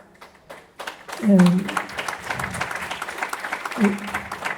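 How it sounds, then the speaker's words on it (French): An audience at a presentation ceremony claps for a student who has earned a vocational certificate, the scattered applause rising and then continuing beneath a voice speaking over it. "il ne faut pas applaudir trop"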